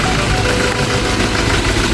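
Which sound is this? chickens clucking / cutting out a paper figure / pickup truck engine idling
pickup truck engine idling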